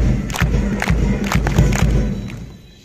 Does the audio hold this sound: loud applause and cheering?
yes